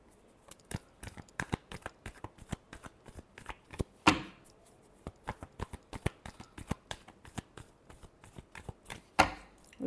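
Tarot cards being shuffled by hand, a close, soft, rapid riffling of many quick card flicks in an uneven rhythm, with a couple of louder snaps.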